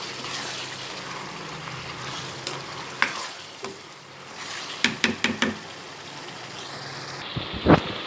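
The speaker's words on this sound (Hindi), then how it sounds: "हल्की आंच पर मसाले को अच्छी तरह से भून लेंगे" Masala fries in a pan on low heat, a soft steady sizzle under sharp spoon scrapes and taps, with a quick burst of several knocks in a row and a louder clatter near the end.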